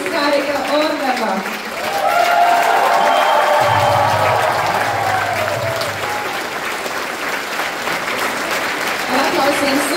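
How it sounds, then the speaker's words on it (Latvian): A concert audience at a Latvian Republic proclamation anniversary concert applauds the soloists, dense sustained clapping from a large crowd throughout, with a presenter's voice speaking over it early on. "Ar aplausiem suminam koncerta solistus"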